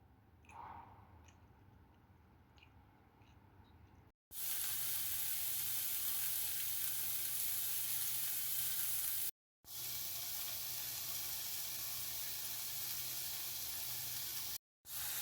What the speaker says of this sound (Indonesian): Goreng sebentar dagingnya ya teman-teman ya, daging ayam cincang.